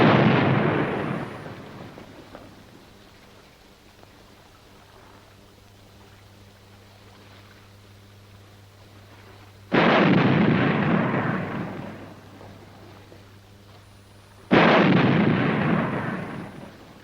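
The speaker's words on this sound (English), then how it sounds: "Sounds like somebody shooting." Distant gunfire: three heavy booming reports, one at the start and two more later, each rolling out into a long fading rumble separated by quiet stretches.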